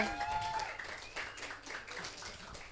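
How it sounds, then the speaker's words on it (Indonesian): A studio audience at a teen talent show claps briefly, a scattered, moderate patter of hands mixed with some background chatter and faint tonal sounds throughout. "Oh, tepuk tangan dulu dong."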